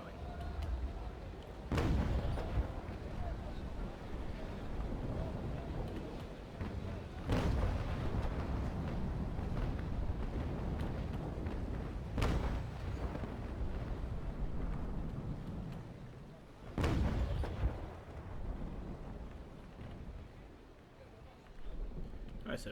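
Four deep, rumbling ship cannon blasts from a naval bombardment in the sailing game Naval Action, spaced several seconds apart over a constant wind-and-sea wash, each booming and then fading.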